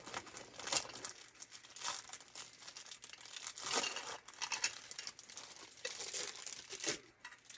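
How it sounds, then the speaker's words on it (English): A tightly taped toy package for a Calico Critters Grand Department Store set is pulled open with repeated crinkling, crumpling and tearing of plastic and tape, close and continuous without speech. "This one is a little harder to open. They've got it taped up really good."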